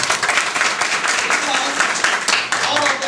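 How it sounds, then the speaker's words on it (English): Seminar audience applauding honoured attendees at a life-coaching mindset talk, a dense, steady wash of many hands clapping for about three seconds, with a voice faintly over it. "can you all give them a round of applause?"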